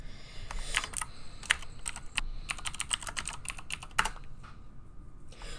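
Rapid typing on a computer keyboard during an Among Us game, irregular bursts of close, crisp key clicks with brief pauses, no talk.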